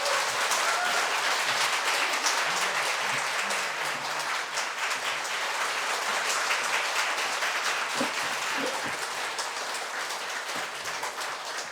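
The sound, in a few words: church congregation applause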